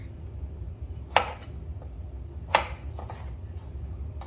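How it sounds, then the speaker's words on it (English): Two sharp knife chops on a cutting board ring out about a second and a half apart while garlic is sliced, close and distinct against a quiet kitchen hum, with a few fainter taps afterward. "I'm going to go ahead and slice up my garlic."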